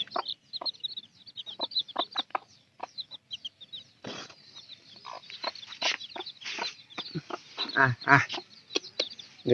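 Native chickens cluck and chirp in short bursts nearby, with a person talking over them at times; the calls grow denser and louder toward the end.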